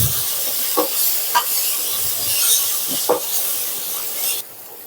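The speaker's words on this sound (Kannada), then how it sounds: "ಅದನ್ನ ಎಣ್ಣೆಯಲ್ಲಿ ಚೆನ್ನಾಗಿ ಹುರ್ಕೋಬೇಕು ಹಸಿ ವಾಸನೆ ಹೋಗೋರು ಹುರ್ಕೋಬೇಕು" Ingredients fry in hot oil in a pan for a hotel-style vadacurry, a dense, close sizzle with a few soft stirring scrapes, running loud and steady before cutting off near the end.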